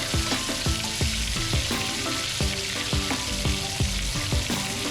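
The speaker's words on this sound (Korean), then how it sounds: "버터를 이제 발라가면서 구워 주시고요" Steak pan-frying in butter, a continuous loud sizzle with a repeating rhythm of spoon-basting strokes, close up with no talking.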